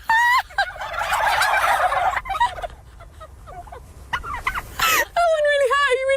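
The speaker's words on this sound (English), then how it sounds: "the turkeys, they like the sound of your voice, and they'll mimic it in a sense." Many turkeys at a turkey farm gobble together in loud bursts, a rattling chorus that rises, fades and returns, with a voice speaking between the calls.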